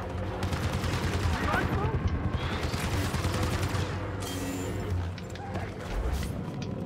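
Rapid blaster gunfire in the Star Wars Battlefront 2 video game, a dense continuous barrage of shots over low battle rumble, with a voice talking through part of it.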